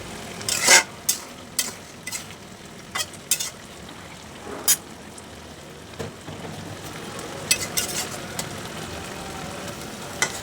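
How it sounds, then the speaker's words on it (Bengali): Greens cooking in a pan are stirred after the lid comes off: irregular scraping clinks and sharp spatula knocks, fairly close, over a faint low sizzle. "সেই ঢাকনাটা তুলে নিয়ে একটু মিস করে নেড়ে দিচ্ছি"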